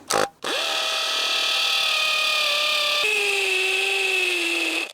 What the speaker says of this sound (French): on a un petit bloc de béton. Donc petite tentative en pleine nature de percer celui-ci